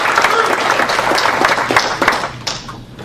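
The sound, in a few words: audience applause for conference chair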